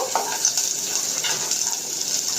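Onions hiss and crackle in a small amount of hot oil, a steady close sizzle with faint stirring scrapes underneath.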